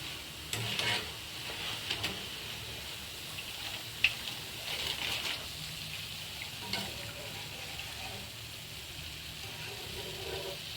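Boondi batter drops into hot oil and fries with a soft, steady sizzle and bubbling, joined by a few light stirring or ladle taps, heard close and fairly quiet.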